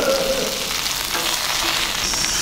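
Bison meat searing over an open fire on a bison farm, a steady broadband sizzle and crackle holding at a constant close level for the whole stretch, with no talk.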